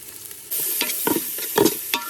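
Chopped onions and cardamom sizzle in a pan, a soft frying hiss broken by several brief scraping stir strokes, close and without talk.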